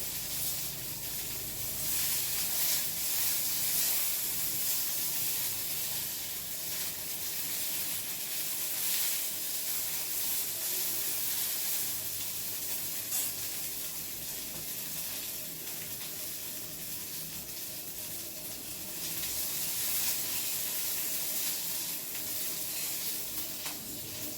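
Cluster beans (gavar) dry-roasting in a pan, a steady faint sizzle and hiss running continuously throughout with no talk.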